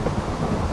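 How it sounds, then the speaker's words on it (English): Minecraft rain with thunder, a dense continuous hiss of rainfall under a low rolling rumble, loud and steady throughout. "It's still raining. Perhaps you can tell."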